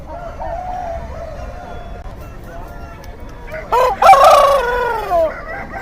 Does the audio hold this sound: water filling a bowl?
no